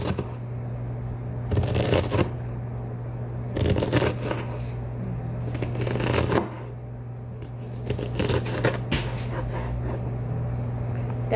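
A knife chops an onion on a cutting board in bursts of quick, crisp, rapid cuts, separated by short pauses, close and moderately loud over a low steady hum.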